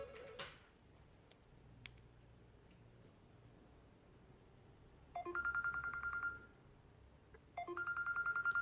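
A telephone rings with two bursts of rapid electronic trilling separated by a pause, clear and close over a quiet background with light ticking, in a LEGO forest-fire play scene.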